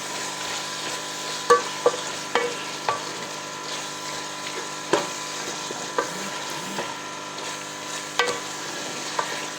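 Mixed vegetables stir-frying over a high flame, a continuous close sizzle punctuated by repeated sharp spatula knocks and scrapes against the pan, with no talking.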